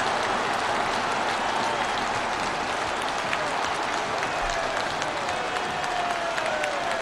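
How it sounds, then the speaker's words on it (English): Football crowd at Pride Park roaring and applauding after an early Derby County goal, a dense, loud, continuous wall of cheering and clapping filling the stadium throughout. "Celebrations inside Pride Park. The crowd go wild."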